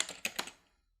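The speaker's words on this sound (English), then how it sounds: "When I'm done typing, I'm going to press the Enter key on the keyboard." A few quick keyboard clicks, three or four taps close together, then quiet.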